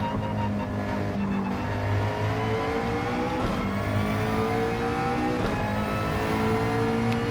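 A McLaren GT3 race car engine in a racing game drones loud and steady at high revs, its pitch gently rising and falling through gear changes.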